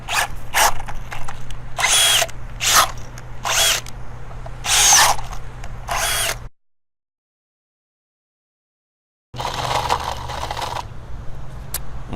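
A power drill bores holes into a wooden plaque, running in several loud bursts of whirring with short pauses between them, then a long silence before another sustained burst of drilling up close.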